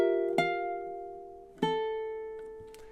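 A ukulele strums two clear chords about a second apart, each ringing out and fading, with a faint third strum at the end. No voice is heard.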